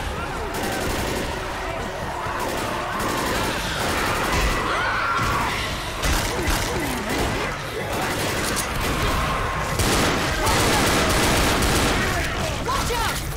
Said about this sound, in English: I was shooting the hunter.